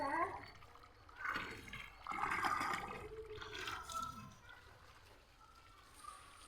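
A steady stream of water gushes from a garden hose and splashes nearby in a rooftop garden, with muffled voices in the background.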